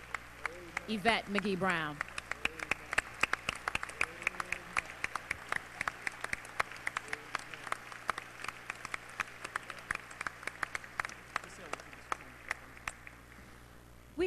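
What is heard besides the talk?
banquet audience applause, standing ovation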